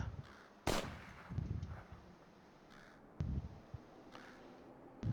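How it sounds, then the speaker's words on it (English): Crows caw a few times at a distance in a video game, with sharp bangs and scattered thuds in between and no speech. "Can hear the crows cawing."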